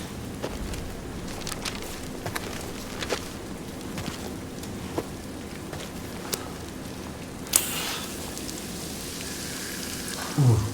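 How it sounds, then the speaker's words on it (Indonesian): Acid rain falls in the video game Death Stranding as a steady, even patter with scattered louder drops, continuing without a break and with no voices over it. "Hujan asam itu."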